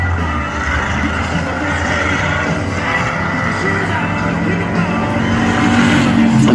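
Demolition derby race cars roar around a figure-8 track, a loud, continuous engine drone with rising revs and a faint tire squeal near the end, close and steady throughout.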